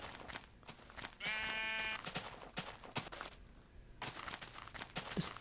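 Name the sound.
sheep bleating in Minecraft video game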